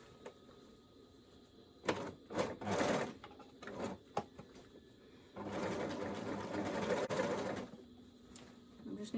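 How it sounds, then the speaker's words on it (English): An overlocker neatens the edge of a stitched waistband on homemade shorts, with short stop-start bursts of stitching followed by a longer steady run, close up and moderately loud in a quiet room. "I just need now to get it on the overlocker and get that neatened"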